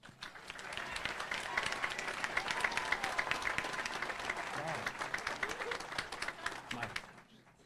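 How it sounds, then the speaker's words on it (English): Sustained audience applause at a high school graduation commencement, a dense wash of many hands clapping for several seconds with faint voices mixed in, then tapering off near the end. "please join me in another round of applause recognizing these students and their parents for the achievements through their high school careers"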